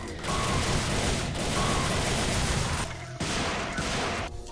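Ranged weapons in the action video game Devil May Cry fire in a dense, continuous volley of rapid shots, loud and sustained, with a couple of brief pauses.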